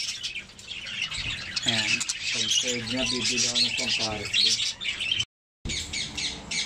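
A pet bird squawks and chirps loudly and close by in a busy stretch of harsh calls and harmonic squeals, while someone speaks briefly, with a short silent gap near the end.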